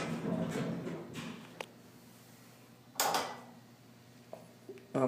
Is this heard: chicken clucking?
no